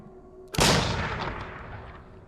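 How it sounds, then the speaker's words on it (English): A single sharp gunshot blasts in the horror game Layers of Fear 2, loud and close, its boom trailing off into a long, rumbling decay. "Why are you shooting people?"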